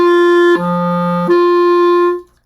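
A clarinet sounds a clear open G, steps down to a lower sustained note, then returns to the open G, each tone pure and steady, solo and close with no talk.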